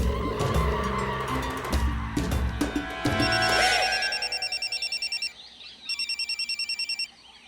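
A telephone rings in a Hindi comedy series scene, its electronic bell pulsing in two clear bursts of rapid repeated trills after a stretch of music and effects.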